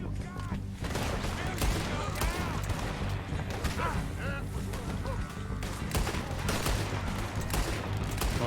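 Revolver gunfire in Red Dead Redemption 2, a dense, chaotic stream of shots and impacts layered over constant battle noise, with voices talking throughout.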